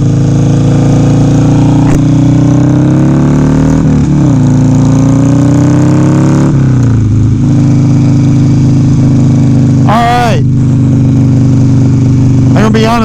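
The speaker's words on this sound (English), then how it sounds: "So, Harley Davidson Sportster 1200." Harley Davidson Sportster 1200 motorcycle engine idling nearby, a loud, steady rumbling beat with brief blips of revving, and a short burst of something sharper near the end.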